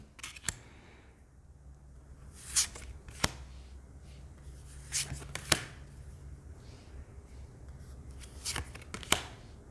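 Hands handling and flipping through a deck of Lover's Path tarot cards: soft sliding card sounds with several crisp snaps and flicks spread irregularly, close and fairly quiet, with no talking.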